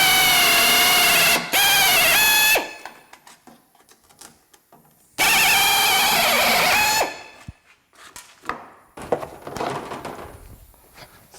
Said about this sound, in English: as you're drilling the rivet, when it starts to spin, you just put a little bit of pressure on it.